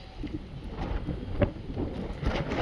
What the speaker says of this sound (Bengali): এত হাওয়াও দিচ্ছে, খুব হাওয়া দিচ্ছে ছাদে